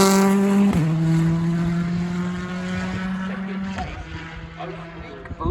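Ford Fiesta Rally 2 rally car on a stage of the East Riding Stages Rally, a loud close engine note with clear pitch drops at gear shifts and a fading roar as it passes, over continuous commentary.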